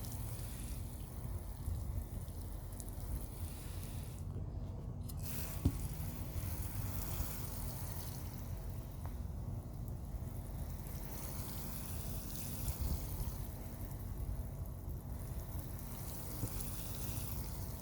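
Water from a watering can falls on newly sown cucumber seeds in soil, a steady, faint, hissing trickle that runs without a break for nearly twenty seconds.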